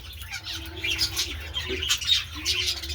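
Pet birds chirp and flutter inside a home bird house during painting work, with bright, scattered calls and wing flaps at moderate distance over a steady low background hum.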